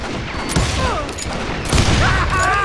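Gunfire in the Call of Juarez: Gunslinger video game, a few loud sharp shots bursting in quick succession over a constant noisy background with brief whistling tones.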